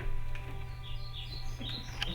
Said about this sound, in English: the chittering and chirps of the neighboring birds